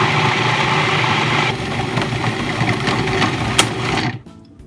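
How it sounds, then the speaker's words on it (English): A food processor mixes cheese cracker dough with a loud, steady motor whir and a rumbling churn, then cuts off abruptly near the end. "I'm going to process this until it turns into a ball of dough"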